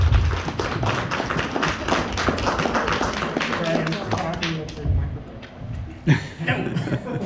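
A furry convention meet-and-greet audience claps for its guests of honor in a brisk, close round of hand claps that thins out midway, with laughter and talking around it.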